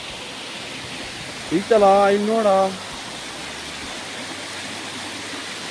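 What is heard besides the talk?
waterfall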